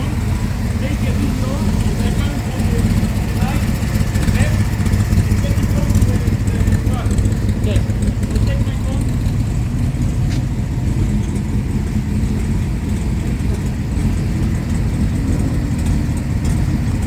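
Ford Shelby Cobra engine idling at an exotic car dealership, a steady low rumble running throughout at close range, with people talking over it.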